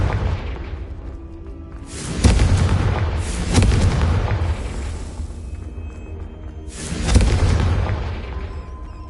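In the Hogwarts Legacy video game, the fire spell Confringo sets off deep, booming explosions. Three loud blasts roll in over a rumbling game background, each followed by a long fading tail, with no talking.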